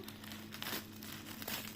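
A protective plastic packet around a newly unboxed tarot deck crinkles softly in quiet bursts, close to the microphone, with no talking.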